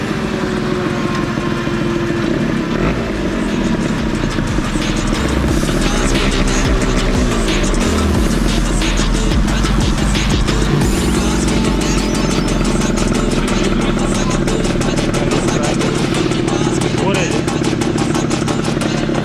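A Honda Activa 6G scooter engine runs hard on a dyno in a third gear pull, a loud sustained drone whose pitch climbs steadily, with a person talking over it.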